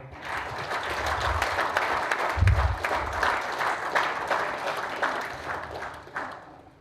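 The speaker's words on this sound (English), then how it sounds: "let us give a big round of applause to the speaker." An audience at a talk claps together for the speaker in a sustained round of applause, dense and fairly loud, tapering off toward the end.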